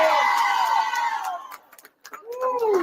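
A crowd at a contentious town meeting in Dolton cheers and shouts, loud whooping voices that briefly drop away and then rise again.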